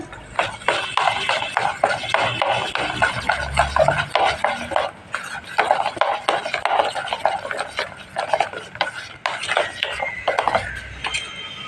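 A spoon stirs crushed garlic into yam fritter batter in a bowl, giving repeated scraping, rubbing strokes in an uneven rhythm, close and fairly loud, with brief pauses between bursts.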